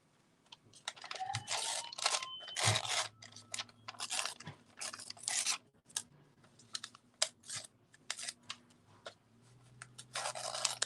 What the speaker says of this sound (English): So let's rip that up.